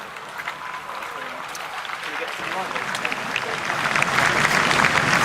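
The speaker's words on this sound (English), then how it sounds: "there you can hear, every now and again, breaking out just spontaneous applause" Scattered applause from a distant crowd outside Balmoral Castle builds gradually, swelling louder toward the end over an outdoor murmur.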